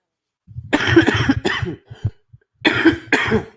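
A person coughs in two bursts of harsh, chesty hacks separated by a short pause, close and loud against silence.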